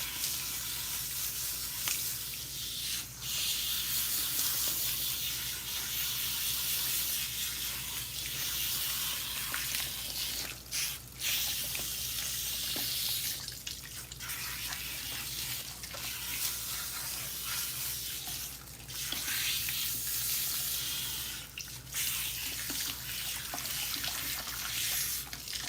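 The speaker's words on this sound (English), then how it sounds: "I'm going to use cool water to rinse my hair" Cool tap water runs steadily while hair is rinsed, a continuous close hiss and splash lasting throughout with small shifts in flow and no speech over it.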